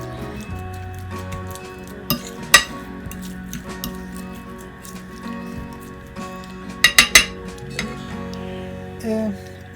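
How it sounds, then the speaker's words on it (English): A utensil clinks against a bowl while guacamole ingredients are mixed, a few scattered taps and a quick cluster of clinks over steady background music, with no talking. "So I mix everything"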